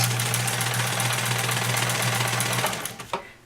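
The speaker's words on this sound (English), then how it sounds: "So I'm just going to go to the sewing machine, and I'm just going to fold it over as I go." A domestic sewing machine runs steadily, stitching along a folded apron hem for about three seconds, then slows and stops with a faint clunk as the fabric is adjusted, close and alone without talk.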